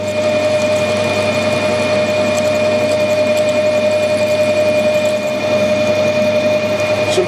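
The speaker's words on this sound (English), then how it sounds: "I might as well drill this now and turn it around the machine in our end" A lathe drills into metal with a continuous mechanical hum and faint tonal whine, steady and loud throughout, with no voices.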